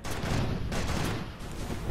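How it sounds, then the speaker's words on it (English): Ship cannons fire in the pirate video game Pirates of the Polygon Sea, several loud, close blasts in quick succession that run together into a continuous, booming barrage. "that's not the way I was facing my cannon, but hey, sure, that's the way we can fire"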